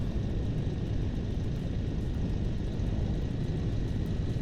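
Flight drone in the Instruments of Destruction game flying along, its propellers giving a steady, loud whirring drone that holds constant throughout with no breaks.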